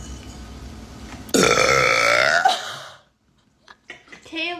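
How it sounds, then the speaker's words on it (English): A loud, drawn-out burp after drinking root beer, rising abruptly and holding for over a second before fading, followed by brief faint voices. "Root beer gives me the burps."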